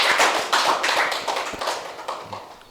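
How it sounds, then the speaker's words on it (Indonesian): An audience claps for a young performer at a Ramadan religious event, with a dense burst of applause that starts loud and gradually thins and fades over a few seconds. "Bisa tepuk tangannya untuk Ananda Zaki Ar-Rasyidi."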